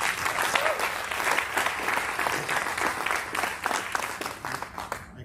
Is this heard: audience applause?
yes